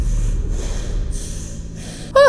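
A voice imitates breathing with drawn-out airy exhales repeated several times, followed by a brief sharp gasp-like snort at the end.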